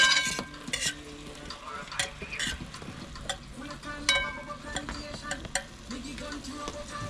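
Food frying in a pan with plenty of seasoning and pepper in a Jamaican fry-up, giving a steady crackling sizzle with scattered ticks and clinks, no voices over it.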